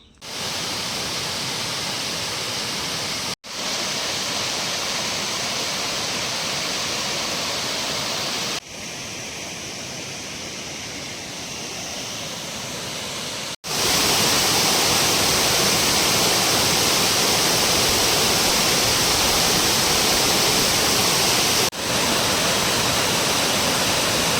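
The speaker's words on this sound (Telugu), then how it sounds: "ఒక్కసారి ఆ వాటర్ ఫాల్ చూడండి" Ullipitta waterfall in a forest in Komaram Bheem Asifabad district pours as a continuous, loud hissing rush of water, split into several abrupt segments whose level jumps between cuts, with no voices.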